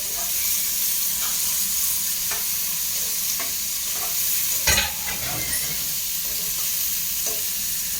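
Something sautés in a pan for a peanut curry, a continuous sizzle with scraping stirs of a spoon against the pan, one louder clatter midway, and no talk.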